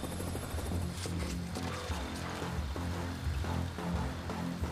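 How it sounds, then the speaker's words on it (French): A helicopter in the stealth video game Splinter Cell Blacklist, its rotor throbbing in a steady, loud, continuous chop under a layered in-game ambience, with no speech. "je vais devoir gérer un hélicoptère en prime"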